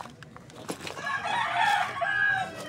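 A rooster crows in the early morning at a Filipino fishing household, a single long call rising and holding, fairly close and clear after a few faint clicks and knocks, with no talk over it.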